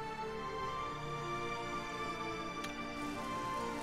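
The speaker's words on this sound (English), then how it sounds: "But it's raining!" Steady rain falls in the fantasy role-playing game Oblivion, a continuous even hiss of drops with a faint tonal game ambience beneath, moderately loud and unbroken with no voices.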